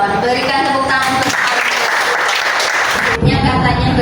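School audience applause during a classroom presentation on Indonesian diversity, a dense clapping wash that swells after the first second and fills most of the span, with voices mixed in at the start and end.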